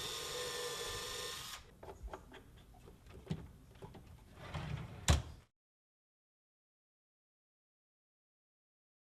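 A power drill boring holes for hardware in a cabinet drawer front: a brief high motor whine followed by scattered clicks and knocks of the workpiece being handled, then abrupt silence.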